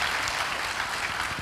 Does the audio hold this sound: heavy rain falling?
no